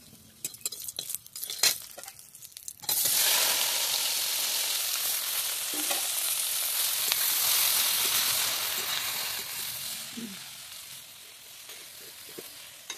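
Dried red chillies hit hot oil and burst into a loud, steady sizzle that runs on without a break. A few light clinks come before it, and the frying fades a little toward the end, with no one speaking.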